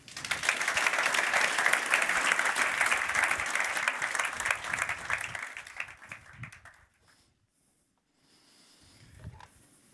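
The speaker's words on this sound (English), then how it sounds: "please, a big applause for Thomas Koziorowski" Audience applause at the Probat Connecting Markets 2022 event, a dense, loud burst of many hands clapping for about six seconds before fading out, followed by quiet room noise and faint movement.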